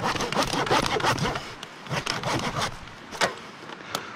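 Dull saw cutting into rotten wood, rough rasping strokes in a quick rhythm that slow to a few scattered scrapes and knocks, close up and alone.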